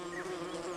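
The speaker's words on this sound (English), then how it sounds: "Rhopalidia wasps." Ropalidia wasps at a sun-exposed comb nest anchored to a baobab cave wall, their wings making a steady, close, continuous droning buzz with a clear pitched hum and no voices.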